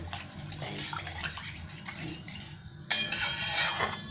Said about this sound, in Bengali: এবার আমি একটু জল দিয়ে দিলাম। এখানে 1 বাটি জল দিলাম